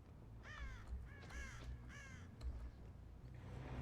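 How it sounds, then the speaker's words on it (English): Several crows caw loudly in short harsh bursts from the Dead by Daylight game, startled as a killer approaches, the calls coming in three or four groups over a low game ambience. "I kind of wish Night Shroud didn't scare crows"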